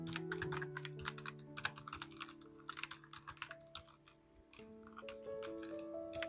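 Quiet typing on a computer keyboard, uneven bursts of close clicking keystrokes with short pauses, alone with no voice.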